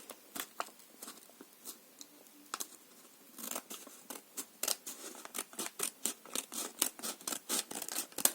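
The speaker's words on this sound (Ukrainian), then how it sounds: "Починаємо відрізаємо стрічку." Scissors snip through ribbon in a rapid series of crisp close cuts, sharp clicking strokes speeding up toward the end.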